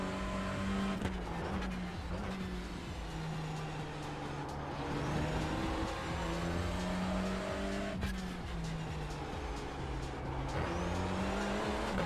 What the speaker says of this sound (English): the sound of the Mercedes GT3 is probably the nicest sounding car in the whole of